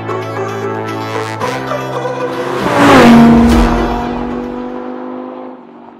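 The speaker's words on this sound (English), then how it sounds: "So I rented a 460 horsepower Ford Mustang to test my theory." A 460 horsepower Ford Mustang engine revs while driving, swelling to a loud roar midway and easing off again, with road and tire noise under the engine.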